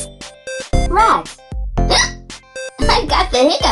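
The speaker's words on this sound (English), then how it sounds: "I've got the hiccups." A child hiccups over and over in short, sharp, voiced bursts that come in quick irregular succession, close and fairly loud, with brief gaps between them.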